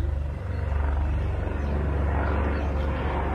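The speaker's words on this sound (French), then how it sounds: "Un hélicoptère." A helicopter's low, throbbing rotor drone fills the air steadily overhead, loud and continuous with no voices.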